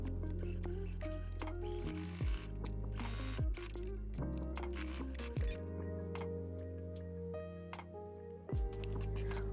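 A sewing machine top stitching jersey knit pants runs in close, loud mechanical bursts, its rapid stitching rattle broken by brief pauses about four times.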